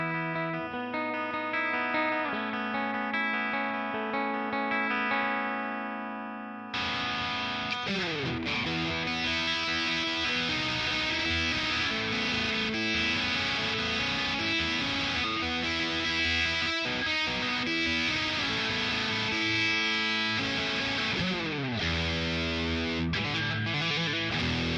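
Electric guitar run through a Boss DS-1W distortion pedal in standard mode into a Boss Katana amp, starting with sustained distorted chords and then moving into a busier, driving riff, loud and continuous with no talk.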